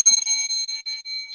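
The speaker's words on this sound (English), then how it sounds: "I hit the bell." A small bell struck once, its bright metallic ring sustaining and slowly fading with a shimmering decay, fairly clear and heard alone without voices.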